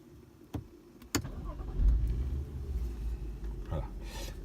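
A BMW 335i xDrive F30 fires up from its push start button: a couple of sharp clicks, then the engine catches with a low rumble that settles into a steady idle, heard close and fairly quiet.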